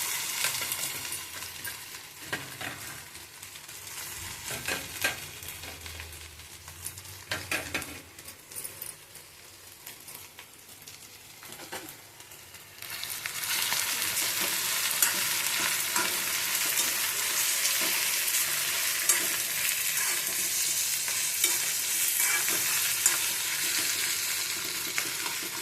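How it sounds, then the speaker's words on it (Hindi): Green chillies and mustard seeds fry in a pan, with scattered crackles and stirring at first, then a loud, dense, steady sizzle taking over halfway through and continuing to the end. "सरसों भी तड़क गया और अब ये हरी मिर्च डाल दी।"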